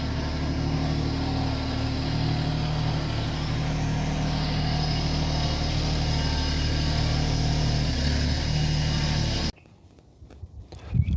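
A tractor engine idles with a steady low drone and a constant hum, running loud and close for most of the clip before cutting off near the end.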